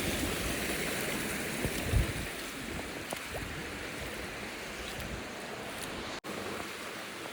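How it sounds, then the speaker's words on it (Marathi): A waterfall beneath a bridge on the Korigad trek rushes in a constant, broad roar of flowing water, close and steady, with a brief dropout near the end and no voices. "मी आलोय ब्रिजच्या खाली धबधबा बघायला"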